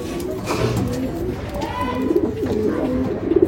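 Old-breed desi pigeons coo in low, rolling bursts close by, several calls overlapping, with brief faint voices in the background.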